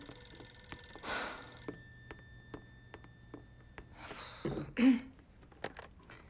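A telephone rings indoors in a French drama scene, with short repeated rings spaced through a quiet room, plus a throat clearing and brief rustles between them.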